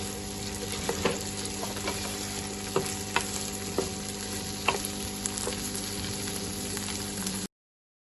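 Okra frying in ghee for a bhindi masala, a steady close sizzle with occasional stirring clinks and scrapes throughout, no voices.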